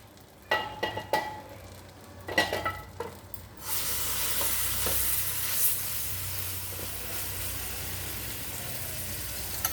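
Palm fruit batter frying in a pan for sweet palm bread, beginning with a few stirring scrapes, then a steady close sizzle that holds alone without talk.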